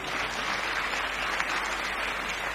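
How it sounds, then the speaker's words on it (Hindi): Audience applause for a comedian at a live comedy show, a dense, steady clatter of clapping hands filling the whole moment without any speech. "एक बार तालियां हो जाए सरदार जी के लिए।"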